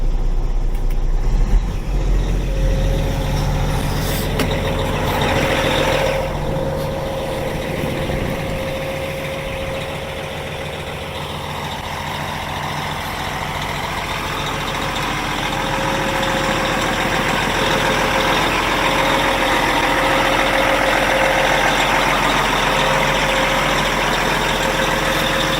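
A 2007 Peterbilt 357 dump truck engine runs at high idle, a steady loud diesel drone with a constant tone that swells slightly toward the end, no voices.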